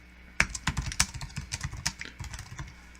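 Code is typed on a computer keyboard in the PyCharm editor, a close, quick run of irregular key clacks that starts sharply and gradually thins out, with no voices.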